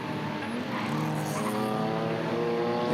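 BMW E30 race cars at Hampton Downs circuit roar past in a steady, loud engine drone with a rising harmonic whine, the cars close and continuous throughout.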